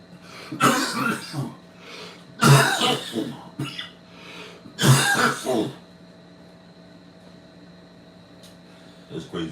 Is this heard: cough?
yes